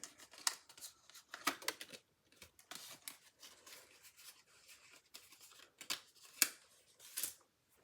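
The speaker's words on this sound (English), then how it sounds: "So we will cut out the gold and the designer paper." Paper snipped with scissors as gold paper and designer paper are cut out for a wedding card, a series of close, crisp cuts and rustles coming in quick irregular bursts, with no talking.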